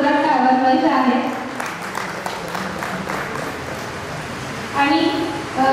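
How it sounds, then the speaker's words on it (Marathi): An audience at a retirement ceremony for an agricultural officer claps for the honoured guests, a moderate burst of applause that builds after an amplified announcer's voice and fades before the voice returns. "तर मान्यवरांसाठी एकदा जोरात टाळ्या वाजवायच्या आहेत."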